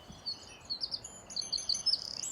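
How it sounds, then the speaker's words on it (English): Small birds chirp and sing in springtime, a string of thin, high tweets and short trills over a soft outdoor background, moderately close and without talk. "Do you hear the birds?"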